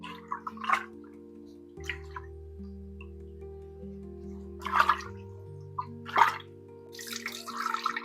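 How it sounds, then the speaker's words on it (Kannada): Betel, Krishna tulsi and ajwain leaves are washed in water, making several short splashing and sloshing bursts spaced a second or two apart over steady background music. "ವೀಳ್ಯದೆಳೆ ಕೃಷ್ಣ ತುಳಸಿ ಹಾಗೂ ಸಾಂಬ್ರಬಳ್ಳಿಯ ಎಲೆಯನ್ನು ನಾನು ಚೆನ್ನಾಗಿ ವಾಶ್ ಮಾಡ್ತೇನೆ"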